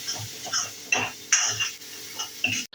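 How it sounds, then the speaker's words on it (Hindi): Spice masala being stirred and roasted in a pan for a Pahadi bhatt dal, with intermittent scrapes and metal clinks of a spoon against the pan at a steady, unhurried rhythm, close by. "तो अब इसको बहुत अच्छे तरीके से भुना जाएगा।"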